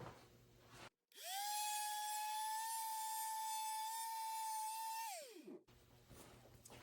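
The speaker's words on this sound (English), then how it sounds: "I'm just take the palm sander to that area." A palm sander roughs up a metal shoulder-strap part to kill its shine, starting abruptly with a steady high whine that holds for about four seconds, then spins down and stops, loud and close.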